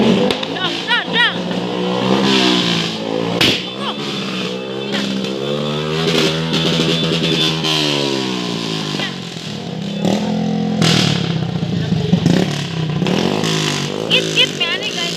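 A motorcycle engine revs repeatedly at a New Year's gathering, the pitch rising and falling in surges, heard close and loud with people talking and shouting over it.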